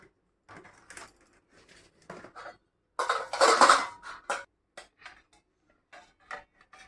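Dishes and serving utensils clink and clatter in short, separated bursts while rice is served at home, with one louder stretch of rattling steel in the middle.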